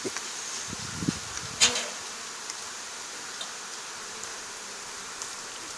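Bees buzz around a hive in Alaska during a honeybee round-up, a faint continuous hum with a few brief close fly-bys, no voices heard.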